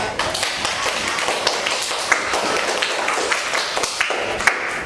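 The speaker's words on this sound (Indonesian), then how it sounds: "Beri aplaus untuk teman kalian." A classroom of students applauds their classmates after a presentation, a steady burst of close, dense clapping that lasts about five seconds with no speech.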